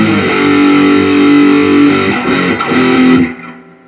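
Distorted electric guitar strums chords from a song: one chord rings out long and loud, then a second strum follows and sustains before fading at the end.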